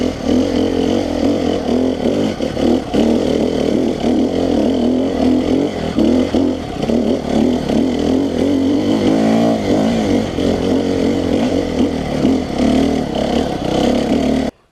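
A 300 SEF-R Six Days motorcycle engine accelerates steadily in a continuous, loud, gritty drone, close up, with small rhythmic fluctuations and one brief pitch sweep midway before cutting off at the end.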